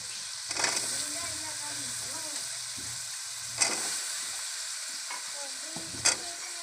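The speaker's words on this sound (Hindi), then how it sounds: "अब इसमें आलू डाल लेंगे।" Potatoes sizzle in a pan of fried masala for aloo bhindi, with a steady frying hiss broken by a few sharp clatters of a stirring spoon. Someone speaks faintly in the background.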